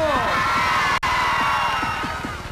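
A stadium crowd cheers and roars loudly and continuously for a football player, with whoops and shouting layered over a dense, sustained wall of voices.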